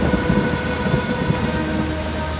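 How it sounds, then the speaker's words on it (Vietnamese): Heavy rain pours steadily in a dense, continuous hiss with occasional low rumbles, loud and close, with no voices. "Nàng khóc nhiều đến mức hạ giới gặp mưa lớn và lũ lụt."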